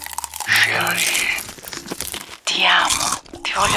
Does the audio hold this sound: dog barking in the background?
no